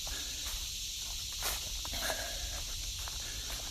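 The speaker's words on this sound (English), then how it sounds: "cicada sounds." Cicadas buzz in a steady, high, shimmering drone outdoors at Nockamixon, heard alongside close rustling and footfalls from someone out running.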